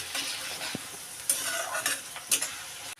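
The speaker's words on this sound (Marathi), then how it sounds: "पहिल्यांदा आपण कांदा टाकूया आणि त्याला परतून घेऊया." Onion sizzling and being stirred in a hot pan for masale bhat, a steady frying hiss broken by a few sharp scraping strokes of the spoon, close and unaccompanied by speech.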